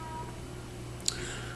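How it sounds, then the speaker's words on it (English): A cat gives a single short meow somewhere in the background, faint and brief against a steady low room hum. "There's a cat meowing in the background."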